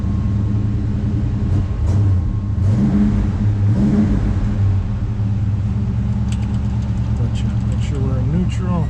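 A 1965 Chevrolet Chevelle Malibu SS convertible with about 71,000 miles idles in neutral, its engine and exhaust giving a steady low rumble with slight rises, close and continuous throughout.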